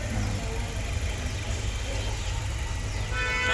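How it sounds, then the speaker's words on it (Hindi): A Maruti Suzuki Ertiga engine idles steadily at low RPM during a service, giving a constant close mechanical drone with a light ticking from the valve tappets. "टैपेट्स का आवाज़ नॉर्मल है ना, ये ऐसा।"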